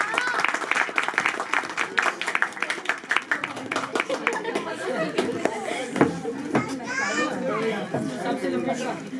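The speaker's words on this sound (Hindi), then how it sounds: "आपकी भरपूर तालियां" Children and adults in an audience clap continuously at a Christmas drama prize giving, dense steady applause mixed with chatter and children's voices throughout.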